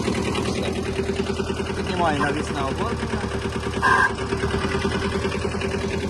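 A Kubota B-10 Japanese mini tractor engine idles steadily close by, a constant low rumble under someone talking throughout.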